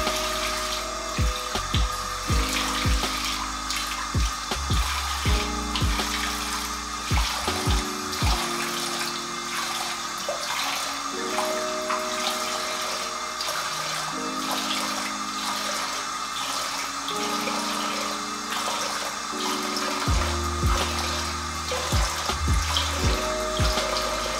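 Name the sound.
tap running, rinsing face with cold water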